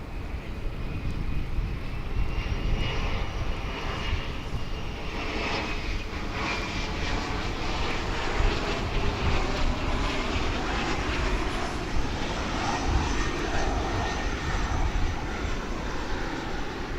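A Polar Air Cargo Boeing 767 comes in to land at a large international airport, its engines a steady, broad roar that swells and shifts as it passes fairly close, with no talk.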